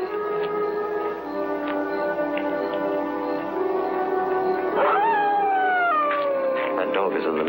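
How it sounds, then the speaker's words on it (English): A dog howls in a neighbouring yard, a drawn-out rising and falling wail near the end, faint and distant under steady background noise and a voice in a 1945 crime film scene. "That dog is in the next yard."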